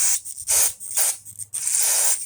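Carburetor cleaner sprays in three forceful hissing bursts through a small hole in a Briggs & Stratton lawn mower carburetor, close and loud, separated by brief pauses with faint mechanical clicks.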